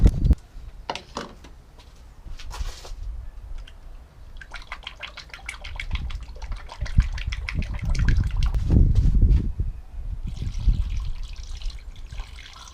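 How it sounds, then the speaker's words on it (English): Coolant being poured into the empty cooling system of a Ford Fiesta MK6, heard as a close, steady trickle and gurgle that swells in the middle and carries on to the end, with a few handling knocks and no talking. "So I'm just going to top the coolant up"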